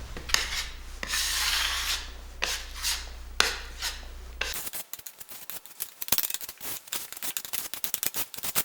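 Grain filler being rubbed into open wood pores, worked across, along and at an angle to the grain: a steady close scratchy rubbing that gives way to quicker, choppier strokes, with no voices.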